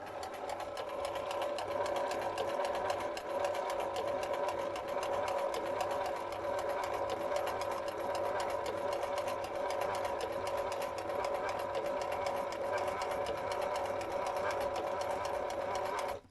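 A sewing machine runs steadily through fabric, its fast even stitching whir holding close and loud from start to finish without a pause.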